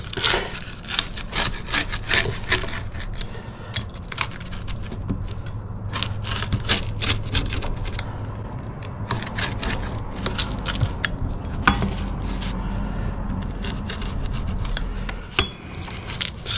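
Crisp, dense crunching and crackling of a cracker-thin lobster pizza crust continues up close, a steady stream of brittle snaps and scrapes.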